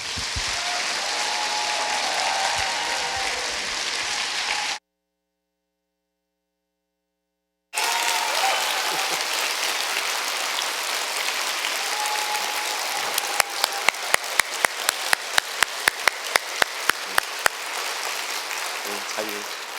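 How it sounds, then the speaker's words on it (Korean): A standing church congregation at a Sunday service applauds in welcome, a dense, steady wash of clapping that breaks off into a few seconds of silence, then resumes and is punctuated late by a run of sharp, regular clicks. "다 기립하셔서 뉴스송의 큰 박수로 환영해 주셨으면 고맙겠습니다"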